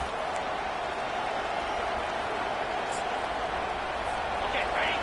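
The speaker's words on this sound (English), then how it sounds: "This crowd bringing the energy and noise early." A stadium crowd in a college football video game featuring OU keeps up a constant, dense roar of cheering at steady loudness from start to finish.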